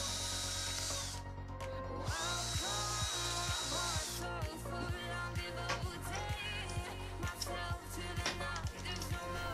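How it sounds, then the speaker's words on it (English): A drill bores one hole through a clamped PVC pipe shredder blade, the power tool whining steadily up close with a rhythmic, repeating pulse as the bit works through the plastic, no voices. "So clamp it down and drill 1 hole"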